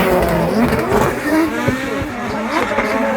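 A drift car's engine revs hard and loud during a Drift Masters Round 4 competition run in Ireland, its pitch rising and falling continuously with throttle changes, and a faint voice is audible underneath.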